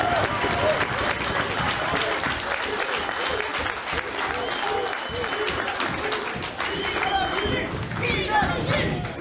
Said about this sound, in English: Give the people who run these shows a huge round of applause.